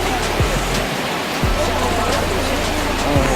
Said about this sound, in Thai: โหทั้งฝนทั้งลม